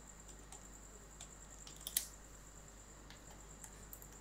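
Keystrokes on a computer keyboard as a search term is entered, a faint, quiet scattering of light clicks with one sharper tap partway through, no voices.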